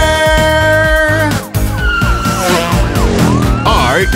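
A loud wailing police siren rises and falls over driving music and rumbling engine sounds, with brief tire-screech-like effects.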